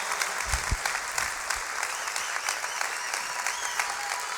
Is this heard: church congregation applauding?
yes